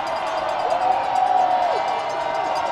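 A crowd at an IUP home college football game roars in a sustained, dense wash of cheering and whooping, with a raised voice or whistle rising above the din midway.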